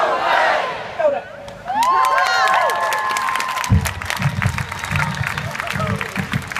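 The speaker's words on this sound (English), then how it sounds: "huge round of applause for Jane Kelsey" A large outdoor crowd at a TPPA protest in Auckland shouts and cheers, then breaks into loud sustained applause and clapping, with voices mixed in.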